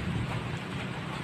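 Heavy rain pours steadily in a brief, constant wash of hiss, with no voices over it.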